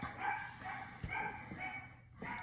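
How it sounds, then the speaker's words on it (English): A dog barks indoors, a few faint muffled woofs scattered over a couple of seconds, distant and quiet against a soft background. "I do apologize for my dog barking there."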